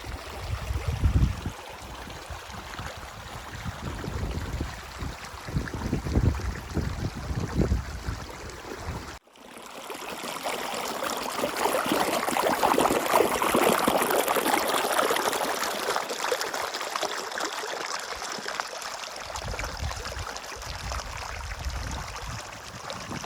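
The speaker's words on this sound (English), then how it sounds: "This is Bear Creek. I'm happy it's here. Wonderful water." Flowing water of Bear Creek along the Continental Divide Trail, a continuous rushing stream that swells louder after a brief cut, heard close with wind-like rustle and no talk.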